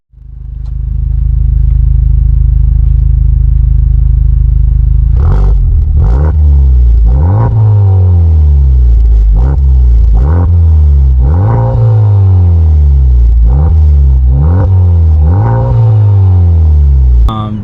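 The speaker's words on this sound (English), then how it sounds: "As for the exhaust, as you guys know, it's HKS Ligamax." A 2021 Honda Civic Type R with an HKS Legamax exhaust idles with a deep, loud rumble, then is revved in a quick series of sharp, close blips that rise and fall, with no talking.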